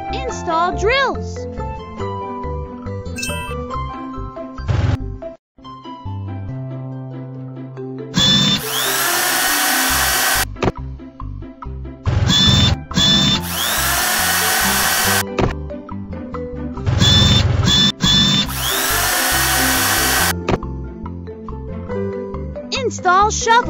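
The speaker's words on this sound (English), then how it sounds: "Install drills." A drill attachment on a cartoon excavator runs in loud bursts of high whirring grind, about three long stretches alternating with bright jingly music, and a child-like voice speaks between them.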